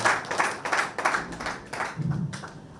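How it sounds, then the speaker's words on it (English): Hands clap in a steady, evenly spaced rhythm at a Nigeria Governors Forum meeting in Lagos, each clap sharp and distinct, sounding like a small group applauding up close. "This deserves another round of applause"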